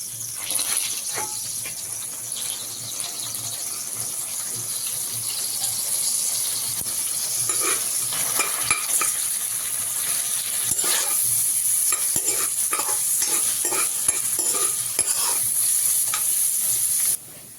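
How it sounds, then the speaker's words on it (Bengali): Onion and chopped chili frying in oil in a kadai, a steady bright sizzle running the whole time with scattered scrapes and clinks of stirring, close and fairly loud, no talking. "এবার এর মধ্যে পেঁয়াজ আর লঙ্কা কুচিটা দিয়ে ভালো করে ভেজে নেব"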